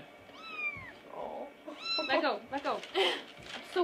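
A kitten gives several high, drawn-out meows close by, with a child and an adult talking over and between the cries.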